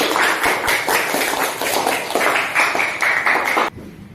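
A classroom of students claps together in sustained, dense applause, loud and close, ending abruptly after several seconds.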